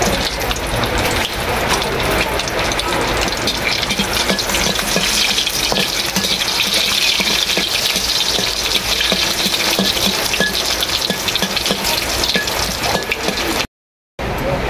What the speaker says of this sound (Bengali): ঢেঁড়স ভর্তা বানানোর জন্য শুকনো মরিচ আর রসুন ভেজে নেব।